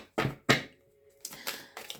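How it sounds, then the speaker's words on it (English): An oracle card deck is shuffled by hand in a few brisk, papery riffling bursts: two sharp close ones, then a pause and three softer ones, with no talk. "I have to talk to these cards because I'll be shuffling"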